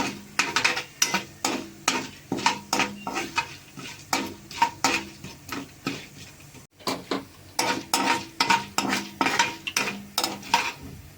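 Coriander, fenugreek and cumin seeds roast dry in a pan, stirred in steady repeated scrapes and light clinks of a spoon against metal, close and fairly quiet with a faint sizzle underneath.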